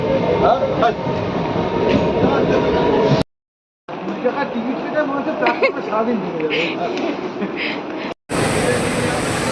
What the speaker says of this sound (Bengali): এই যে চাকদা স্টেশন থেকে আমরা ট্রেনে উঠে পড়লাম